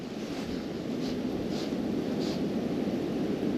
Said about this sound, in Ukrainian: Вітер задуває прям серйозно.